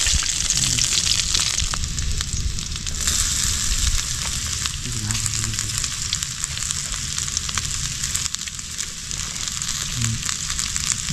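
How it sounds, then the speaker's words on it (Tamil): Onions fry in hot oil in a pan for a Kerala-style meen pollichathu fish dish, making a loud, steady, close sizzle that runs unbroken, with faint stirring scrapes underneath. "வெங்காயம் போட்டு நல்லா வதக்கிடுவோம்"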